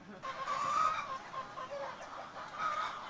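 Chickens cluck at a chicken raising operation, a busy overlapping flock of short clucks and murmuring calls, fairly near and continuous, with no voices heard.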